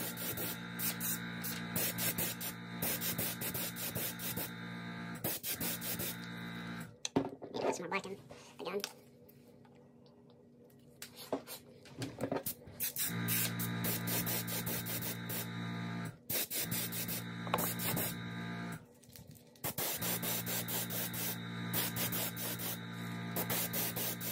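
An airbrush sprays paint onto a fishing lure in a crappie pattern, hissing in long steady bursts broken by short pauses, with a voice talking in the gaps.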